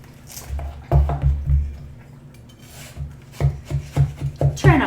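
A knife slices through a seedless watermelon, giving rasping, rubbing cuts in short uneven strokes, close and fairly loud, with a few board knocks.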